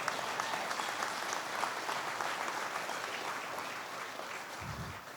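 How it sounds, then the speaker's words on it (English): An audience at an investment dinner applauds steadily, a soft, continuous patter of many hands heard from a distance, with a brief low thump just before it ends. "give them a round of applause"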